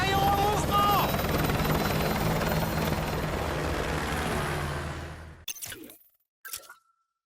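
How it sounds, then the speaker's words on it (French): A helicopter in the video game Call of Duty Modern Warfare 2 Remastered, a loud steady rotor roar that cuts off abruptly near the end, with brief game sounds and some speech over it. "Prenez mon hélicoptère."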